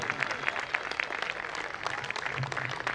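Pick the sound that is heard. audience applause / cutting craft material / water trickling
audience applause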